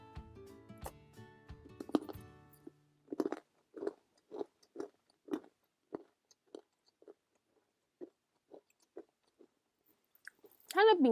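Close, crisp crunching as someone bites and chews a hard cranberry cookie, a rapid run of about a dozen distinct crunches that fade gradually, with brief murmured speech at the start and end.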